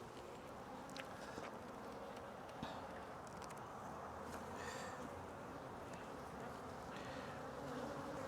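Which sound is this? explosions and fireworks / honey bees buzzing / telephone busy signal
honey bees buzzing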